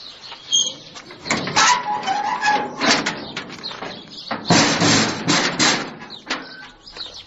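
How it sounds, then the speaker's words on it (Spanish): The gate of a small old cemetery in Valdepero is opened at dusk. It gives loud, repeated scraping and creaking bursts, close by, with birds chirping between them and no talk. "abriendo la puerta a la verja del viejo y pequeño cementerio de Valdepero"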